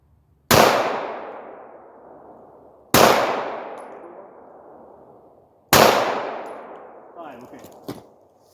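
A Glock 17 pistol fires Tula 135 gr subsonic hollow-point rounds: three loud, sharp, well-spaced shots, each followed by a long fading outdoor echo, with a small clink after the last.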